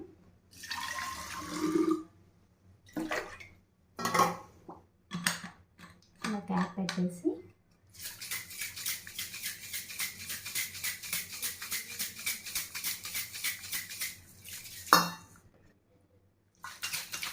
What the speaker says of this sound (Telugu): ఇలా అవన్నీ వేసుకున్న తర్వాత ఒక ఫైవ్ మినిట్స్ అయితే షేక్ చేయాలన్నమాట